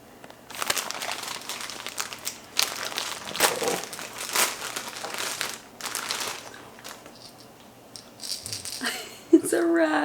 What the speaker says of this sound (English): It's a rattle.